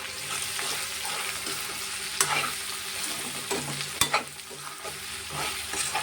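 Okra fries in a pan with salt, turmeric and chili, a steady close sizzle broken by sharp spatula scrapes and clanks against the pan, no speech.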